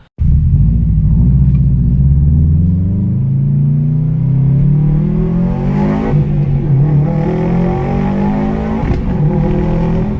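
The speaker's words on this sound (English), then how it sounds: "If you shift it just right in second, it does this amazing sound" A Subaru STI with a loud aftermarket exhaust roars continuously, revs dipping and climbing through a shift in second gear with a deep burbling exhaust note, close up and with no talking.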